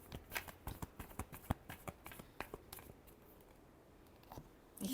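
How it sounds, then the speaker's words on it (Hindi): Tarot cards shuffled close up in a quick, uneven series of crisp riffles and slaps, alone and fairly faint, with a short pause before the handling picks up again at the end. "चलिए देखते हैं लास्ट शफल।"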